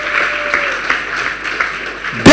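A church congregation gives a short burst of moderately loud, steady clapping that ends in a sudden loud sound at the very end.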